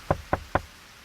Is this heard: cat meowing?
no